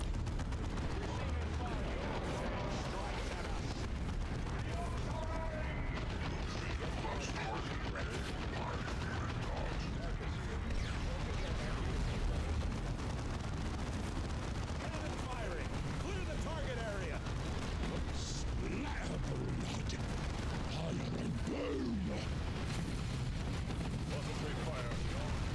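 Plasma cannon fire in the Dawn of War 2 strategy game, Wrath of the Blood Ravens mod, heard amid dense, continuous battle noise of gunfire and explosions, with voices talking over the combat.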